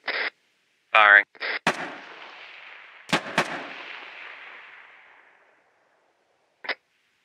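Several sharp gunshots from weapons firing at targets, close and loud, with a long rolling echo after the first shot, two quick reports in a row, then a last crack, mixed with brief radio-like voice bursts.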